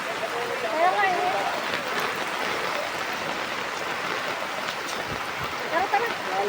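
Floodwater from Typhoon Enteng rushing down a street that has turned into a river, a steady broadband wash and gurgle running throughout, with people talking over it.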